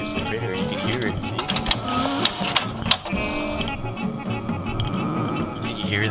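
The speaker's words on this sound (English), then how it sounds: "Here's the printer, you can hear it" An office printer runs continuously with a steady mechanical whir and buzz, broken by a few brief clicks near the middle, while someone talks over it nearby.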